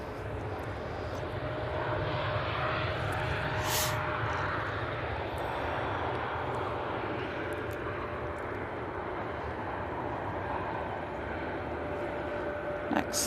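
Steady, loud jet engine roar from a Ryanair airliner departing Manchester Airport for Luton, a sustained broadband rumble with a faint whine, heard alone throughout.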